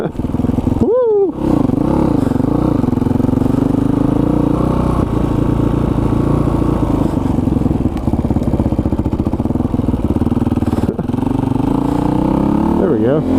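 A supermoto motorcycle revs sharply, then rides with a steady, buzzing engine drone close by, with voices heard at times over the loud engine.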